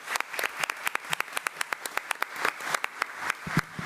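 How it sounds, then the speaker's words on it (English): Sparse, distinct hand claps from a small audience at a school board meeting, a few people clapping in an uneven rhythm at modest volume in a quiet room. "If you all would please give Ms. Bondi another round of applause."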